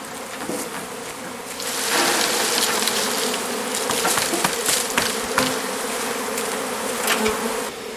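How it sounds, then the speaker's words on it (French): A honeybee swarm streaming into a hive gives a dense, steady buzz that stays loud and close throughout, with individual bees zipping past the microphone and no voices. "Quand les abeilles comme ça se dirigent toutes vers la ruche"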